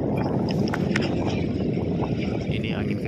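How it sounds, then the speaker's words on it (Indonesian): Strong wind roars at sea over a small fishing boat off Papua, as a dense, constant rush of gusting noise buffets the microphone, with faint water sounds beneath it. "Ini angin kencang sekali teman-teman."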